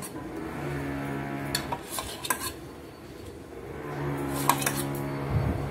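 A spoon stirs mint chutney and yogurt into water in a glass, making bursts of light clinks and scraping taps against the glass, with a quiet pause between them and a low hum underneath.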